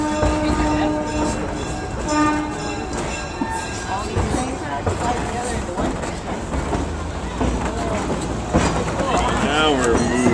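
Passenger train rolling along the tracks with a continuous rumble, rhythmic clatter and squealing tones, close and loud, while people talk over it throughout.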